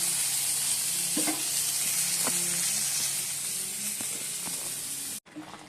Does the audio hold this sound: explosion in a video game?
no